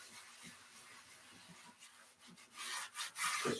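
A cast iron pan is scrubbed with salt and a folded sponge, giving a quiet, gritty, rhythmic rubbing that grows slightly louder and faster toward the end.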